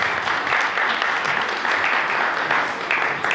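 A church congregation applauds with dense, continuous clapping at a steady level, a full room of hands with faint voices mixed in.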